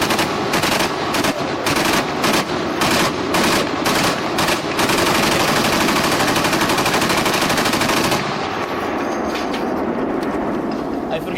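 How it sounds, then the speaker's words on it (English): A .50 caliber machine gun firing incendiary rounds, loud and close, starting with spaced bursts and then merging into one long continuous stream of fire before stopping. "a 50 caliber machine gun loaded with incendiary rounds"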